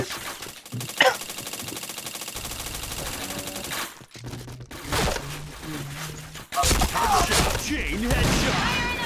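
Gunfire in the shooter game Point Blank, rapid automatic bursts and sharp single shots scattered through the stretch, with game sounds and voices mixed in.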